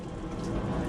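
Rain falls around a fishing boat out on the water in bad weather, a soft, steady patter that holds evenly through a brief moment with no voices.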